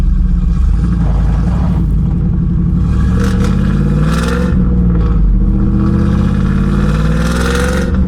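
A V8 with a custom 3-inch exhaust line, its resonator plate broken loose at the top and vibrating with a tinny can-like rattle, rumbles loudly and steadily with revving swells throughout, no voices.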